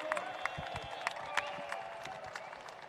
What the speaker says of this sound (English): Give a round of applause for their build.